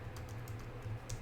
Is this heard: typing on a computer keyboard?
yes